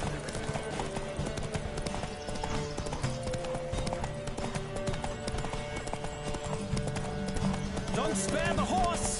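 A horse gallops in The Witcher 3 with a rapid, rhythmic clip-clop of hooves throughout, while voices talk over it and a neigh breaks out near the end.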